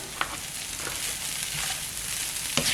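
Beaten rice (poha) tipped into a hot pan with melted salt and sugar, a brief soft steady sizzle with a couple of light utensil taps, no talking.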